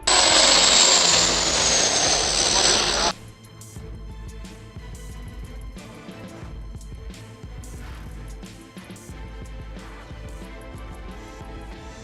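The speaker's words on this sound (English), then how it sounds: "The firefighting plane arrived with impressive speed and put out the fire in no time." A firefighting plane passes over a fire with a loud, broad roar for about three seconds, then drops away into a quieter, busier mix of distant rumble and clatter.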